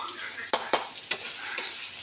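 Prawns frying in mustard paste with salt and ground cumin give a steady sizzle, while a utensil scrapes and clacks against the pan four or five times in quick succession.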